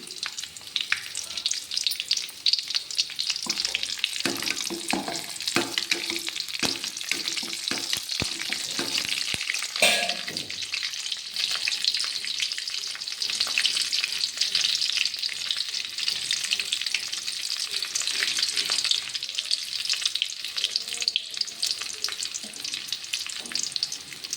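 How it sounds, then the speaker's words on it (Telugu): Four dried red chillies frying in hot oil for a cucumber dal tempering, a dense continuous crackling sizzle that holds steady and close, with a few scraping stirs early on and no talking. "నాలుగు ఎండుమిర్చిలు వేస్తున్నాను"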